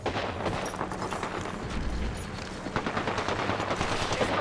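Automatic gunfire in the video game Apex Legends rattles on for several seconds, with rapid machine-gun bursts and heavier booming shots mixed in, loud and close throughout.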